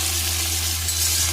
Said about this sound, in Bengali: গোটা গরম মশলা ফোড়ন দিয়ে পেঁয়াজ কুচি দিয়ে